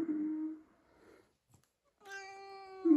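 A domestic cat handled indoors gives a drawn-out meow, a short pause, then a second rising, tonal meow that swells louder at the end, close by with no talk over it.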